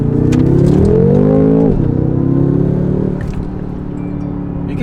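Synthetic engine sound in a BMW M5 imitating its twin turbo V8, a loud close rev that climbs, drops sharply, then settles into a steady drone.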